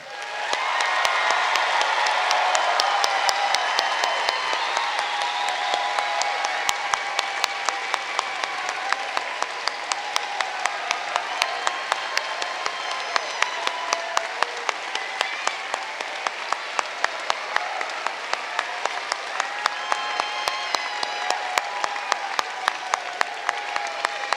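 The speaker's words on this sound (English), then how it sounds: "please join me as we honor all graduates with a well-deserved round of applause" A large audience at a fall commencement ceremony bursts into sustained applause for the graduates. The dense clapping is loud at first, then settles into a steady, even patter that lasts over twenty seconds, with faint cheers mixed in.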